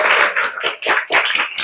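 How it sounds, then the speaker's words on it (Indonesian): Applause from a studio audience on an Indonesian chat show, a run of sharp, fairly close hand claps in an uneven rhythm, with no talk over it. "tepuk tangan untuk Jas Murni dulu ya"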